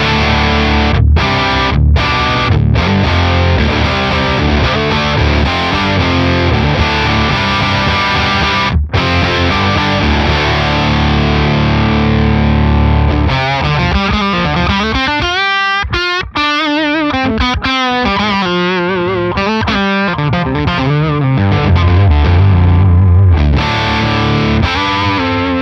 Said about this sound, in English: Great rhythm tone, great hard rock rhythm tone.